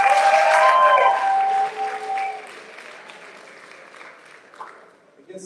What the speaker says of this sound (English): One more cheer. Coaches cheer